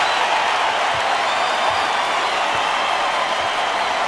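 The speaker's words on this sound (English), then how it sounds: "And listen to this crowd." A basketball arena crowd roars in a steady, dense wall of cheering and applause that fills the whole stretch, loud and continuous with no gaps.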